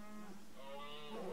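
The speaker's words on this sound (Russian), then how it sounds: "Корова муфлу тащит." A single cow moos in RimWorld, a low, drawn-out bovine call over a quiet game backdrop, close and clear.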